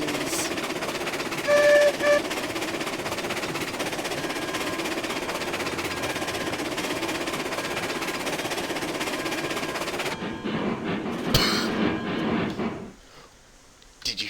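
Train running in the Railroads Online video game: a steady, loud rumbling roll with brief metallic tones early on, continuing for about ten seconds before thinning out and dropping near the end.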